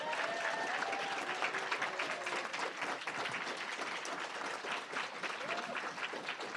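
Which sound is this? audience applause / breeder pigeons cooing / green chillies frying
audience applause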